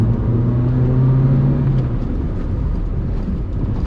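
A 2012 Citroen C3 GLX engine hums under heavy road rumble as it pulls in second gear; the engine tone holds briefly, then blends into the noise.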